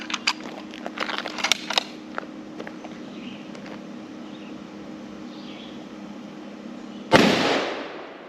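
.257 Weatherby Magnum rifle firing a Barnes bullet, heard as one sharp, loud report near the end that decays quickly, preceded by faint clicks and handling noises over a steady hum.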